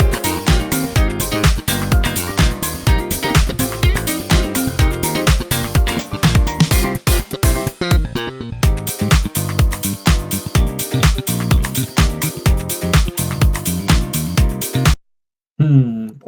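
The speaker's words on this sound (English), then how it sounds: "We can tell there's two pianos happening." Two pianos play together in a busy, continuous passage of dense chords and runs, loud and full, stopping abruptly near the end.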